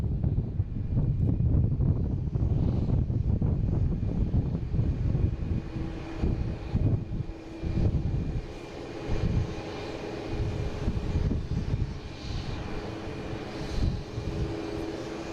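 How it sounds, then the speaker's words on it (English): A Delta Airbus A321neo jet airliner roars at Boston Logan, a loud, steady engine rumble buffeted by wind that slowly eases off. "Delta here heading to San Diego. Flight 571 and A321 Neo."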